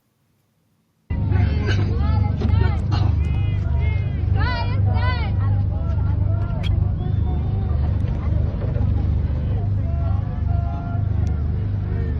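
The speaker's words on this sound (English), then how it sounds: "you hear all these boats singing, "Free Palestine."" Many voices chant together from flotilla boats sailing toward Gaza, carried over a steady, loud motor drone that starts after a second of silence and continues throughout.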